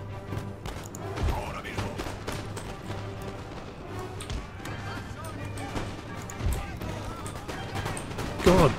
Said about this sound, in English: God, point blank fire into a unit of militia.